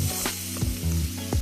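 Paprika and tomato paste cook in a pan for a slow cooker vegetable beef soup, sizzling loudly and close while a spoon mixes them in a few quick scraping strokes over a steady low tone.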